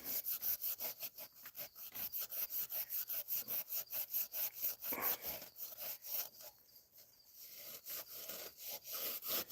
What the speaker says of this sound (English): It's just WD-40 and a Scotch-Brite, and it's a cast iron block